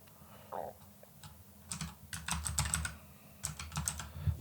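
Clattering keystrokes on a computer keyboard come in quick, irregular bursts, close and fairly quiet, with brief gaps between runs of typing.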